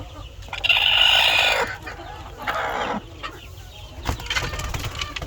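A hen clucks in several short bursts nearby, with rustling and scratching noises between the calls; no talking.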